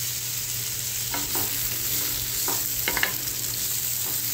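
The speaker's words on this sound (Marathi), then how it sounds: "आता हे आपण भोपळा याच्यामध्ये घालूया आणि थोडंसं परतून घेऊया" Bottle gourd sautéing in a little oil in a pan, with a constant low sizzle and several distinct spoon-against-pan stirring clicks and scrapes.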